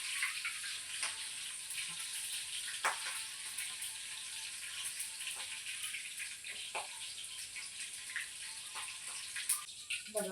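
Green chillies sizzling in hot oil in a home kitchen, a steady bright crackle with scattered sharper pops, moderately loud and close, with no talk.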